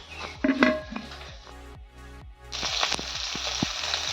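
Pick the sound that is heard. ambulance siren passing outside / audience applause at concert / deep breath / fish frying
fish frying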